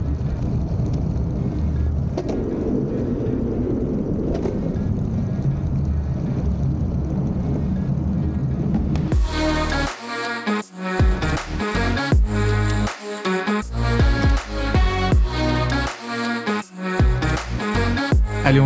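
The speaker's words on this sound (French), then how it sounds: "tout ce qu'on va entendre, en gros, c'est le bruit des roues sur la route" Electric skateboard wheels, an Elwing Nimbus with powerkit, roll on a road with steady rumble and wind noise, then loud music abruptly takes over partway through.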